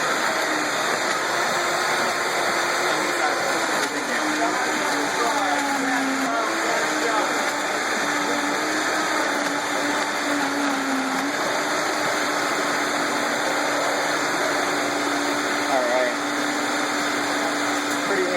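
A Vitamix blender runs steadily throughout at moderate level, a continuous motor whir with a faint drifting tone, while a person talks over it.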